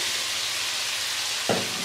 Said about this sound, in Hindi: अब कीमे और आलू को हम 2 से 3 मिनट अच्छे तरीके से भून लेंगे।